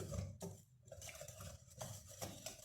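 Cake batter for a marbled cupcake being stirred in a bowl, a steady close scraping and swishing with a few louder clinks of the utensil against the bowl, no voices.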